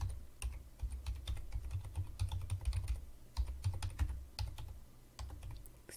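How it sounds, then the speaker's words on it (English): Steady, close typing on a computer keyboard, a continuous run of quick clicky keystrokes with brief pauses, with no talking. "Excuse my typing."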